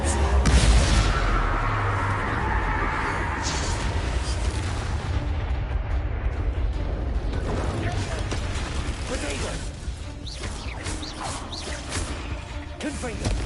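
Fiery Confringo blast spells burst in Hogwarts Legacy gameplay, a dense rumbling roar of booming explosions and crashing debris that swells loudest at the start and keeps rolling on under an ongoing game soundtrack, with a voice speaking over the din.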